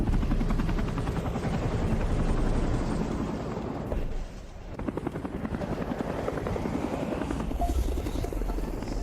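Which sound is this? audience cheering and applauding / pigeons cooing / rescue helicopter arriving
rescue helicopter arriving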